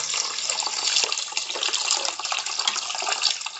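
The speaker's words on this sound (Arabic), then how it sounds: "نجيب مية من الحنفية يا بنات، من الحنفية اهي." Water runs steadily from a kitchen faucet while rice is being prepared, a continuous bright hissing stream close to the microphone with no talk over it.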